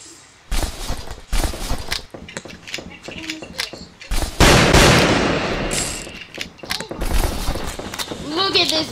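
Gold buffalo rifle shots in a video game, sharp loud cracks scattered among clatter and mechanical clicks, with a person talking throughout over the action.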